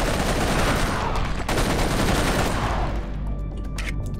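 Sustained, loud assault rifle fire in Serious Sam 3 BFE rattles continuously, dense rapid shots that ease off near the end with a few trailing clicks.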